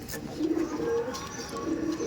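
Tournament-quality Madrasi pigeons at a sale give soft, low, repeated coos, nearby and fairly quiet against a steady background.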